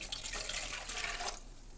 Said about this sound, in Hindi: और अब इसके बाद मैं इसमें डालूँगी तकरीबन ये 2 कप पानी है।